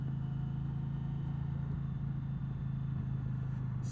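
An Indian Challenger motorcycle in sport mode rides along the road near Baltimore's Loch Raven Reservoir, its engine holding a steady, close, low droning hum with no voices over it.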